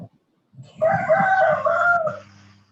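A rooster crows once, loud and close, a long drawn-out cock-a-doodle-doo after a brief quiet gap, with no speech over it.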